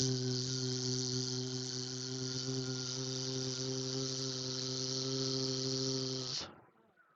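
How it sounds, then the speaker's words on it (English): Steady, loud insect buzz used as a sound effect in a tabletop role-playing game, a sustained droning hum that holds evenly for about six seconds and then cuts off abruptly, with no talk over it. "as the buzzing sounds like it's getting closer."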